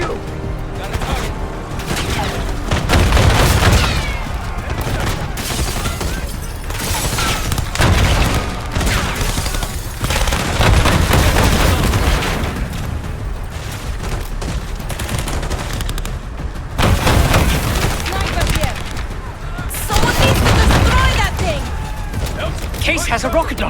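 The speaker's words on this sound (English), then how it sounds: "Case has a rocket launcher. APC down." Heavy battle in Call of Duty Black Ops 6 as a rocket launcher takes out an APC: dense machine-gun fire and booming blasts repeat in loud waves, with shouted voices mixed into the chaos.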